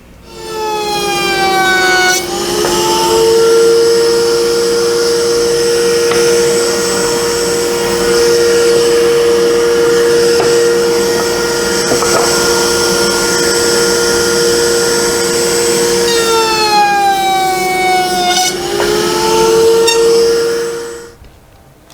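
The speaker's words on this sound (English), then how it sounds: "So I've got to cut 2 dados in the back and then cut that to the appropriate length." A power saw cuts two dados in a wooden drawer back for a pre-1907 Hardinge Cataract restoration: a loud steady whine runs for about twenty seconds, rising as the blade spins up and falling as it winds down, with no talk.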